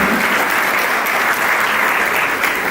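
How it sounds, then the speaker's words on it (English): Full, steady applause from the crowd at a university matriculation ceremony, a loud unbroken wash of many hands clapping at once from start to finish. "Can we give a round of applause?"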